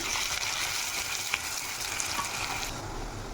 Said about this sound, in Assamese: পিঁয়াজটো মই ব্ৰাউন হোৱালৈকে ভাজি ল'ম ধুনীয়াকৈ